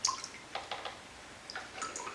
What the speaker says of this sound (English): And then you scoop it in and lift it up level and let the water drain for a moment.